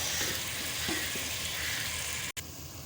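Chopped onions frying with cumin in a pot, making a steady close sizzle with faint stirring scrapes and a sudden brief cut near the end.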